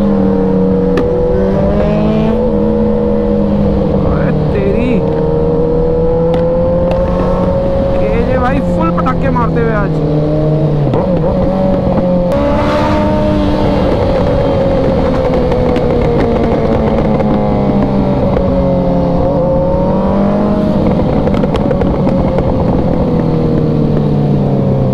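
Superbike motorcycles rev and ride at night during Diwali in India, their loud engine notes rising and falling continuously throughout, with people talking over the roar.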